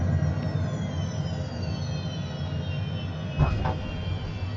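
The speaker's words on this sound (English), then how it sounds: "hard landing into this Honda jet" A HondaJet HJ420 in Microsoft Flight Simulator 2020, flying in hurricane conditions, drones with a steady jet whine, then a brief thud and rattle near the end as it touches down hard.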